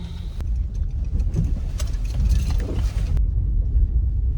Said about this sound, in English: I'm literally just driving in the woods.